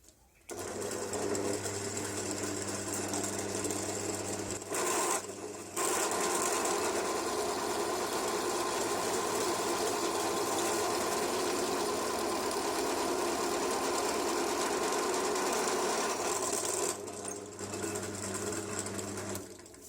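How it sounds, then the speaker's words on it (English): A drill runs continuously with a half-inch bit boring into thin sheet metal that lets the bit wobble and walk, a steady close motor drone with a brief dip near five seconds. "this is half an inch drill bit, it starts to walk around and wobble"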